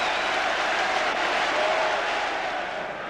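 Applause rises from the crowd at a Tottenham football match in the 1994/95 season, a steady wash of distant stadium noise that fades slightly toward the end.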